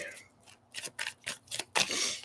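Tarot cards are shuffled by hand in a series of quick riffling bursts with short pauses between them, close and moderately loud.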